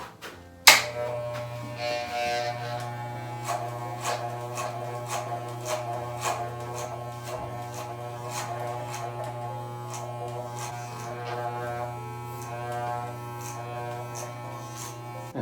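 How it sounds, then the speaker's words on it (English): Electric hair clipper fitted with a number 1 guard cutting a man's hair at home, a steady close motor buzz with a low hum underneath and repeated crisp snipping strokes as it passes through the hair. "Now I'm going slightly shorter, clipper number 1."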